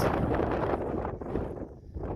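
Strong gusting wind on a mountain ridge near Blencathra buffets the microphone in a continuous roar, rising and dipping slightly with each gust.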